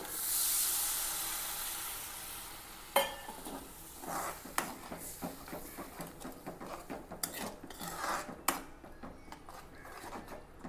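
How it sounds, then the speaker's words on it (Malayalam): Water is poured into chili masala frying in a pan, starting with a loud rushing sizzle that dies down into a quieter crackle, broken by repeated clinks of a spoon stirring against the pot. "ഈ സമയത്ത് നമുക്ക് ആവശ്യത്തിനുള്ള വെള്ളം ഒഴിച്ച് കൊടുക്കാം."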